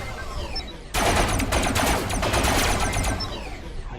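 Turrets firing in the robot-building combat game Robocraft: a sudden loud burst of rapid gunfire starting about a second in and sustained as a dense, crackling volley over low rumble, no talk.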